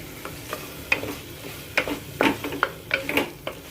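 Tomatoes with a spoonful of soy sauce sizzle in a pan for tamatar bhaat while a utensil stirs them, scraping and clinking in a series of sharp close strokes over a soft steady frying hiss.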